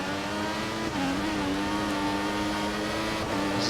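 Ferrari-engined Formula One cars racing in the video game F1 2014 in wet conditions at the Hungarian Grand Prix, a loud, steady high-pitched engine whine with a slight dip and climb in pitch as the car shifts.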